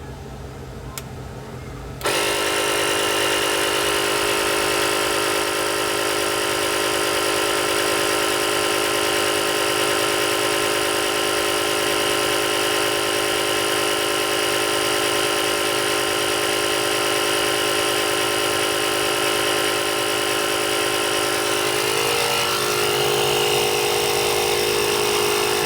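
A JF.EGWO 6000A jump starter's built-in air compressor kicks on after a short quiet moment and runs loud and steady, a harsh buzzing drone with a strong whine, while inflating big tires toward 35 pounds, with no talking.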